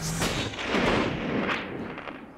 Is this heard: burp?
no